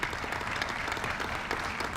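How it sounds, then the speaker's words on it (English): Applause from the audience at an Essex County freeholder meeting honoring a departing freeholder, a steady, moderately distant patter of clapping with no talk over it. "So I think she's due a round of applause for her work here"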